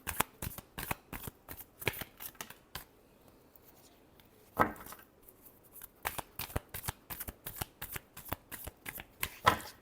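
A deck of tarot cards shuffled steadily in repeated quick riffles, producing dense rhythmic papery snaps close by, with a brief pause midway before the shuffling picks up again, alone without speech.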